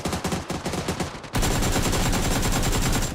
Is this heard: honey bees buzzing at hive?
no